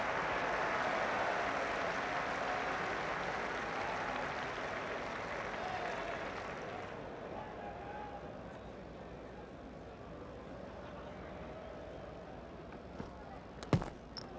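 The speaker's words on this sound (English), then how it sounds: "the applause around the ground is for the 200 lead coming up." Cricket crowd at Old Trafford during a 1995 England versus West Indies Test, broad applause around the ground that fades after several seconds into quieter ambience, with a few sharp knocks near the end.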